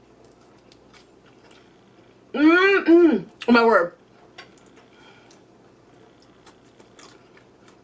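Crunchy air-fried food bitten and chewed close to the mic in three loud, crisp bursts, followed by a short exclamation and then quiet.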